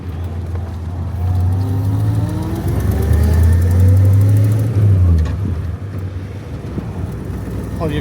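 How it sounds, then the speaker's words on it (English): A classic Studebaker car under way, with its engine droning close and rising in pitch through the revs, then dropping at a gear change before easing off. Road and cabin rumble sit underneath. "Who could say no to a ride in a Studebaker?"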